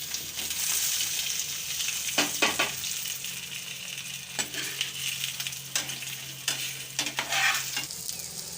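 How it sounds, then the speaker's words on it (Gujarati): Spices with white sesame seeds sizzle and crackle in hot oil for tempering, a continuous frying hiss broken by several sharp clinks of a spoon stirring against the pan. "હવે આપણે આનો વઘાર કરી લઈશું"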